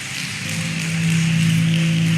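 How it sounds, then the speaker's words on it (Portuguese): A church congregation at a faith and finances seminar applauds steadily, producing a dense wash of clapping that holds even and slightly swells over a couple of seconds, with a faint steady tone beneath. "Aplaude e glorifica Jesus Cristo."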